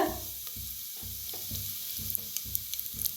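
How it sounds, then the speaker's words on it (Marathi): Mustard seeds, cumin and asafoetida sizzling in hot ghee and oil, a steady close hiss with rhythmic popping and light crackles throughout. "आपलं तूप तेल चांगलं गरम झालंय त्याच्यात टाकूया मोहरी अर्धा चमचा अर्धा चमचा जिरा थोडंसं हिंग"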